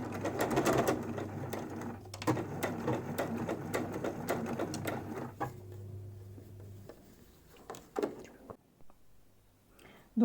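A sewing machine stitches the seams of a fabric face mask's lining and outer cloth in rapid mechanical bursts, then stops, leaving a few scattered clicks and handling sounds nearby.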